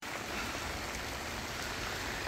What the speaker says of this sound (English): this is more rain than I would prefer for working outside